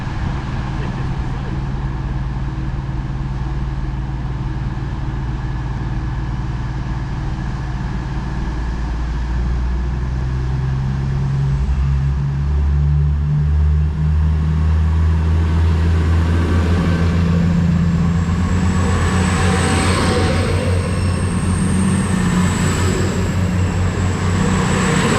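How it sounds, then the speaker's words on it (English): East Midlands Railway unit 222-103 pulls out on a service to Nottingham: a steady low diesel rumble that swells as it departs, joined later by a rising engine whine, loud and close on the platform. "off goes 222-103 on the 1035 East Midlands Railway service to Nottingham"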